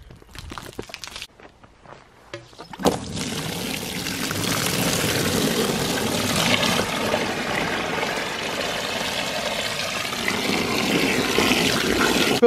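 Water gushing steadily into a bucket being filled for hydro dipping sneakers, a loud continuous pour that begins after a few seconds of faint clatter and keeps running close by.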